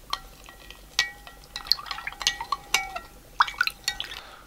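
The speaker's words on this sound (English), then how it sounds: "now we're going to add the sweetener. Okay, we'll give it a stir." A spoon stirs sweetener into homemade cider in a glass or container, giving a run of light clinks and liquid swishes and drips that come in irregular bursts, close and fairly quiet.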